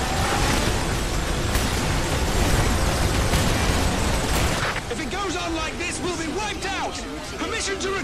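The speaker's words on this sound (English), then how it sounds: "It was an explosion." A loud, roaring explosion in the video game Earth Defense Force 5 fills the first half, then fades into crackling debris and chaotic game sound effects with clipped voices and chirps.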